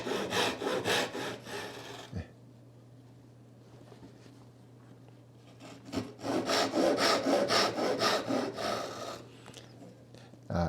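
Hand saw cutting a wooden window lattice bar, with two bursts of rapid rhythmic back-and-forth rasping strokes separated by a quieter pause, close and clear over a steady low hum.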